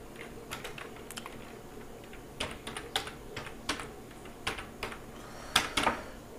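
Typing on a computer keyboard while filling in an online voter card application form, with sparse, irregular key taps and short bursts of clicks, close and fairly quiet against a faint background hiss.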